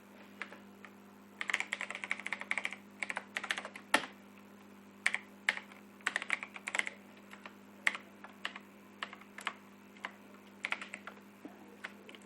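Typing on a computer keyboard: bursts of quick, close key clicks with short pauses between runs and an occasional heavier key press, over a faint steady hum.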